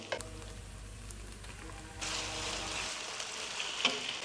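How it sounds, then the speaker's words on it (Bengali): Onions and red chili fry in hot oil in a pan for restaurant-style pasta, giving a steady close sizzle that swells louder partway through, with a brief stirring clatter near the end. "আর পেঁয়াজগুলো দিয়ে দিচ্ছি প্রথমে, তারপর লাল মরিচটা।"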